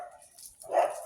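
A dog gives a single short bark on a walk, near and fairly faint, over quiet background.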